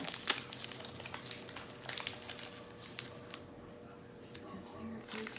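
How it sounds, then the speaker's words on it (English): Shiny gift wrapping paper ripped open by hand, a run of sharp crinkling and tearing bursts up close, with a voice talking through it. "Rip that paper. Oh, very shiny paper."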